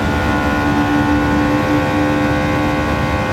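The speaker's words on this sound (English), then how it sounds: "Just touching the rev limiter there. It's just bouncing and bouncing." A touring car engine at full revs bounces repeatedly on the rev limiter on a downhill section of the Nürburgring during a TS2 touring car race, with a loud, steady, dense roar and no talk.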